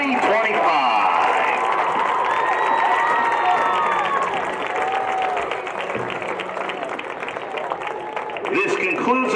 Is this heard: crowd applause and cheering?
yes